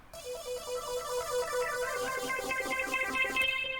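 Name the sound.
music melody without effect plugin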